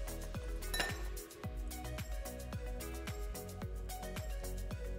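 Ice cubes dropped into drinking cups for a shaken piña colada, a quick series of bright clinks and clunks with one louder tumble near the start, close and alone.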